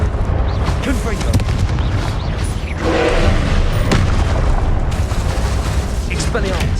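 Confringo spell blasts in Hogwarts Legacy gameplay, dense booming explosions and crackling impacts layered with combat noise and spell voices, loud and continuous with a heavier surge in the middle.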